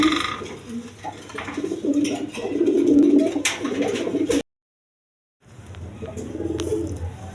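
Pigeons at a pigeon farm coo in soft repeated throaty phrases, close by, broken by a brief silent gap before the cooing resumes.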